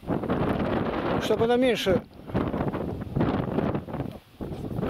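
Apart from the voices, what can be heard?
wind blowing outdoors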